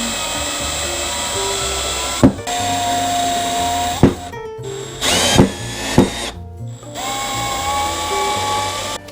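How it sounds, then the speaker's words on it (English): A power drill whirs steadily while drilling holes into a wall for a subwoofer bracket, with its pitch shifting and several brief stops and restarts along the way. "drill it slowly right here"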